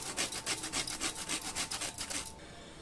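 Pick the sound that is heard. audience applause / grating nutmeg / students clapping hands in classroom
grating nutmeg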